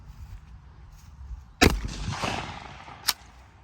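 Knight TK2000 black powder 12 gauge shotgun fires one loud close boom with a rolling outdoor echo, then a second sharp report follows about a second and a half later.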